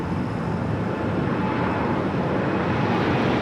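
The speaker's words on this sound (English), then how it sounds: "It's the flight to Newark." Jet airliner for Newark at LAX, a broad steady roar of engines at a distance, constant in level throughout with no voices over it.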